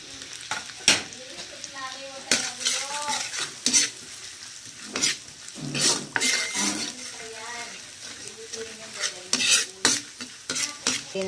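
Garlic and white onions sauté in a pan, a steady sizzle broken by scraping and clinking stirs of a utensil against the pan, with some background voices and tonal sounds over the frying.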